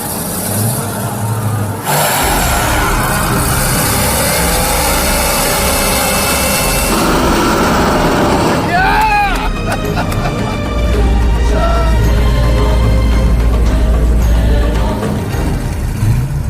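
A Dodge Challenger launching in a drag race, its engine roaring loud and steady with a rising rev sweep midway, heard close amid heavy broadband noise with no talking.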